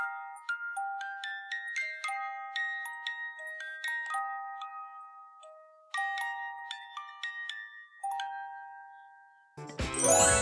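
Wind-up music box playing a plinking metallic melody, clear tinkling notes in a steady tune that pauses and restarts, then ends in a burst of close handling noise.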